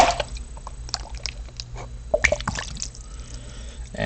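Water sloshes and splashes as a prospecting pan of paydirt is tipped and dumped, with scattered drips and small spatters over a few seconds, close and fairly quiet.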